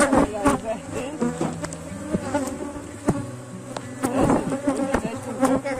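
Dense honeybee swarm buzzing loudly and continuously at close range while a hive is split into new colonies, with many overlapping wingbeat drones rising and falling and occasional bees passing near.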